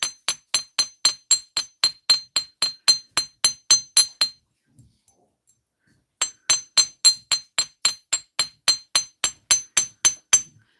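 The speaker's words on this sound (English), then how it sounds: "Now I like a little texturing, so I'm going to take and use the ball peen side" A ball peen hammer strikes metal earrings on a hard surface, adding texture in a fast, even run of bright, ringing taps. The pounding pauses briefly, then resumes at the same steady rhythm.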